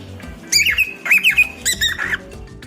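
A pet cockatiel squawks in a few sharp, rising and falling bursts, close and loud, with short pauses between calls and a faint household hum beneath.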